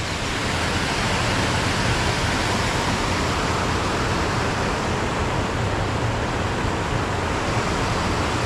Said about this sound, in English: you can sit down there and just listen to the waterfalls coming down